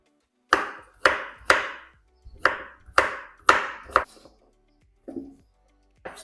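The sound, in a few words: chopping zucchini into cubes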